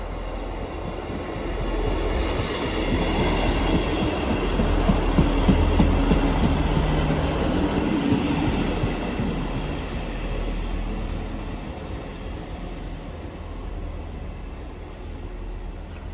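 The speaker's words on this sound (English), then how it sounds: "Departing out now is the delayed 1532 ScotRail service from Cowdenbeath to Edinburgh Waverley." A delayed ScotRail Class 158 diesel unit, 158712, pulls out of Haymarket station in Edinburgh on a Cowdenbeath to Waverley service, its steady rumbling engine and rolling wheels holding loud and close throughout with no talk over it.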